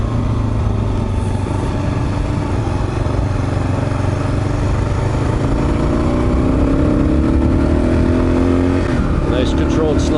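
A Kawasaki KLR 650 motorcycle rides slowly on gravel and slides, its engine a steady low drone with small throttle changes, close and continuous, under occasional speech.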